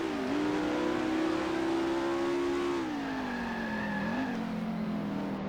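Period race car engines in the Grand Prix Legends sim at 1967 Magny Cours, a loud sustained engine drone that holds steady, then drops in pitch as the car slows, with a second car's tone faintly audible.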